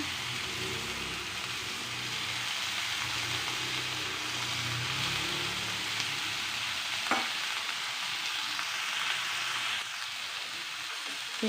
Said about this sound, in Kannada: ಇದನ್ನು ಎಣ್ಣೆಯಲ್ಲಿ ಫ್ರೈ ಮಾಡೋಣ ಎಣ್ಣೆಲೆ ಈ ಬದನೆಕಾಯಿ ಚೆನ್ನಾಗಿ ಬೇಯಬೇಕು